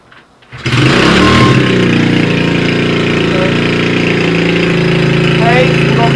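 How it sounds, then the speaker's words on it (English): A 125cc Suzuki dirt bike engine with a performance booster fires up after a brief pause, then runs loud and close with a steady, rough, rattling drone. "125cc, 125. Powered up performance booster, Suzuki engine. It's pretty much a monster. I'm gonna show you what it sounds like."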